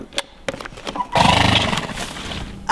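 A horse neighing sound effect, a loud drawn-out whinny that follows a few scattered clopping knocks, heard alone with no talking.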